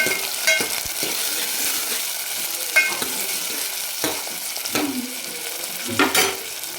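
Finely chopped tomato sautéing in a hot pan for a spicy mutton curry, a steady sizzle broken by several sharp clinks and scrapes of a spoon stirring against the pan, with no voices.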